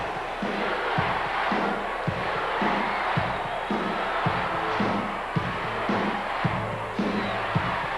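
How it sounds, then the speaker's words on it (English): An arena crowd at a 1980s Houston wrestling show chants in a loud, steady, repeating rhythm, a mass of voices pulsing together with shouts mixed in. "Listen to this crowd. Listen to this chant."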